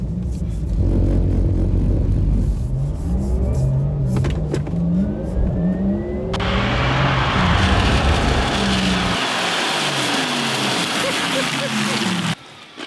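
A Porsche Taycan Turbo S electric car drives on a track, a loud, steady rumble of road and motor noise inside the cabin with people talking over it before it cuts off sharply.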